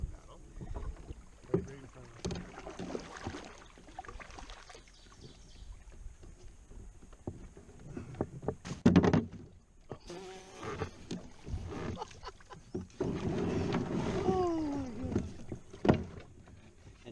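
Canoe paddling on a lake in Algonquin Park, with splashy water strokes and boat knocks coming and going over roughly seventeen seconds, with occasional wind buffeting the microphone and brief voices.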